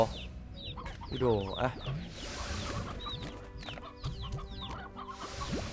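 Video game hens in Slime Rancher clucking repeatedly, close and busy, with a brief bird squawk and a voice speaking briefly among them.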